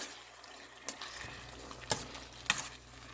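Radish pieces fry in hot oil with a soft steady sizzle, broken by three sharp scraping clinks of stirring in the pan, close up and without any voices.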